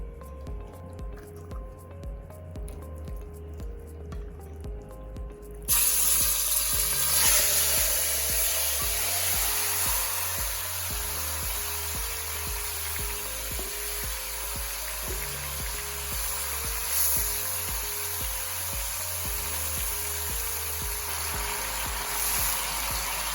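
Oxtail sears in hot oil in a pot for Jamaican oxtail, a steady loud sizzle and crackle that jumps in abruptly and then holds on without a break, with a low rhythmic hum running underneath the whole time.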